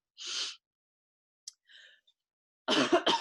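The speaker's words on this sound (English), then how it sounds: "this is embarrassing to be coughing all over the computer" A breathy, hoarse burst, a pause with faint small sounds, then a rough cluster of close coughs.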